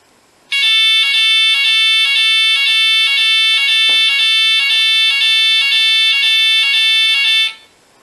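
A Finsecur Type 2 fire alarm system sounds a loud, steady, tonal electronic alarm that starts abruptly, holds continuously for about seven seconds, then cuts off, heard close and alone.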